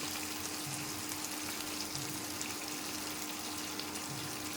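Ingredients for gongura pappu fry in a pan with a steady, dense sizzle and crackle over a faint constant hum, close and unbroken, with no voices.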